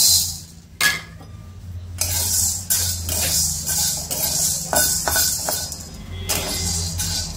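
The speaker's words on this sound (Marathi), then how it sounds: "आता हे हिरवे हरभरे भाजून घेऊया." Green chickpeas dry-roast in a pan over low heat, with repeated scraping and rattling strokes as they are stirred, fairly close and steady, no voices.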